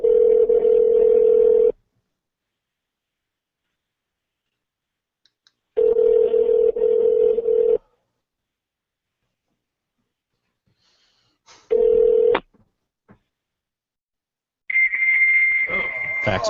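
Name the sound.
fax machine tones on a phone call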